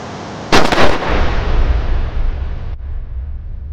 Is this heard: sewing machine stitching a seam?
no